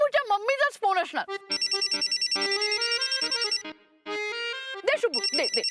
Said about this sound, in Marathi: मम्मीचाच फोन असणार.